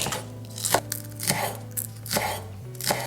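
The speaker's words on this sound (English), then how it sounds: "Next, we need 1 onion leek. I'm slicing it to about 2 inches long" Knife slicing through an onion leek on a cutting board, with four sharp chopping strokes spaced about three-quarters of a second apart over a low steady hum, close and clear.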